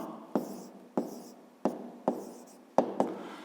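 Pen or chalk strokes writing out a math expression, about seven distinct scratchy taps and short scrawls in an uneven rhythm, close and fairly quiet with no voices.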